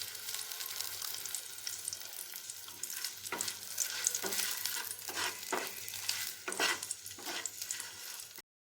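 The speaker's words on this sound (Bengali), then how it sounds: "এখন আমি ফোড়নের জন্য ছেড়ে দেব একটা শুকনো লঙ্কা, তেজপাতা" Dried red chilli and bay leaf hit hot mustard oil with a bright, continuous close sizzle, broken by a few sharp stirring scrapes and crackles before it cuts off.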